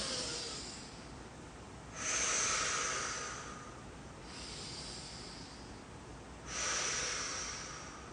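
Two slow, deep nasal inhalations, each swelling for about a second amid a steady soft breathy hiss, close and alone with no talking, during gentle back-and-forth movement in a relaxation exercise.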